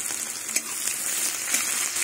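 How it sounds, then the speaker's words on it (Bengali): Chopped onion fries in hot mustard oil with kalonji seeds in the pan, a steady, close crackling sizzle with a few louder pops across the whole stretch. "পেঁয়াজটা ভেজে নেব।"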